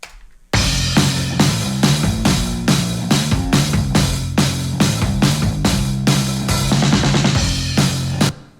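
A steady groove of drums locked together with a bass line, punchy kicks and snare hits on a regular beat, full and loud throughout with no voices.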